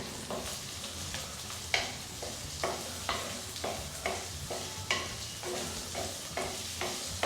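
Ingredients for a chilli-red sardine and mackerel fish curry sauté in a pan, a steady close sizzle broken by regular scraping stirs roughly every second, with no talking.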